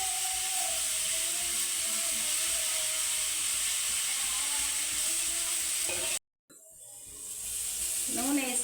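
Mint leaves fry in hot oil for pudina chutney, a steady close sizzle with scraping and stirring, then a sudden brief cut to silence before the frying noise swells back louder.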